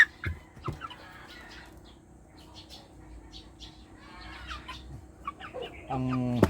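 A young yellow-legged Polaco (Polish) rooster from Davao, about 1 month and 10 days old and weighing 1 kilo, gives a few faint clucks and peeps at close range, then a louder harmonic crow-like call at the end.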